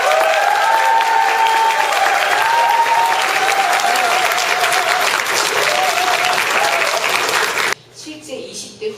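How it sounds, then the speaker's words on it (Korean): An audience gives loud, sustained applause and cheering to welcome politician Lee Jung-hee onto the stage at a lecture for university students, then it cuts off abruptly near the end. "이정희 대표님을 큰 박수로 모시도록 하겠습니다"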